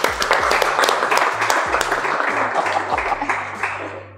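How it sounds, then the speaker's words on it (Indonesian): Audience applause in a university hall, with dense clapping throughout under a persistent low musical drone. "Tepuk tangan dulu dong semuanya."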